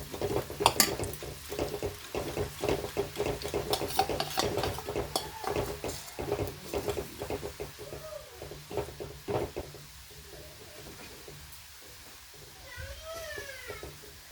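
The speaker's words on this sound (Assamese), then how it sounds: "এইখিনিও বাদাম মই এতিয়া ফ্ৰাই কৰি লওঁ।" Almonds for badam pakora fry in a pan with close scraping and stirring clatter over a soft sizzle. The scraping comes in busy bursts that thin out toward the end, and a voice is briefly heard.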